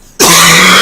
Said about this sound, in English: really bad coughing attack